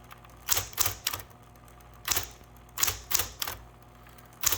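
A manual typewriter clacks in quick clusters of sharp, close keystrokes, two or three strikes at a time with short pauses between, and no voices.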